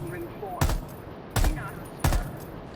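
An M4 rifle fitted with an extended barrel in Rainbow Six Siege fires three sharp, evenly spaced shots at close range, each with a brief ringing tail, over faint background voices.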